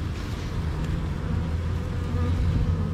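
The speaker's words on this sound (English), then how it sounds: "Look at all them bees back there. That's a lot of bees." A dense, steady hum of a honey bee swarm buzzing together close by, a continuous droning with no talking.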